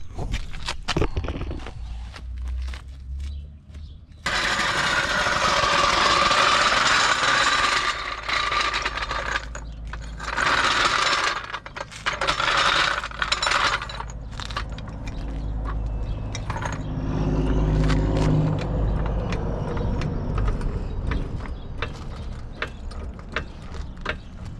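A car jack worked under a 1995 Dodge Avenger with a broken axle, giving irregular metallic clicks, rattles and scraping against a steady background hum, moderately close, with no talking.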